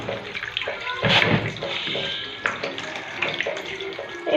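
Tap water runs steadily into a sink while fish is rinsed, a close splashing stream with brief surges as the flow hits the fish and the basin.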